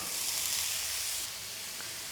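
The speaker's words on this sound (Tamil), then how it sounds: "நெய் சூடானதும் ஒரு பெரிய வெங்காயம் பொடியை நறுக்கியிருக்கேன், இதை சேர்த்துக்கலாம்" Chopped onion sizzles steadily in hot ghee, a dense, close frying hiss that runs unbroken throughout with no voices.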